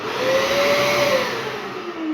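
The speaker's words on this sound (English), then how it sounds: "Turn the hoover on." A loud workshop vacuum extractor roars steadily nearby during tile drilling, its motor pitch rising and then sliding gradually lower.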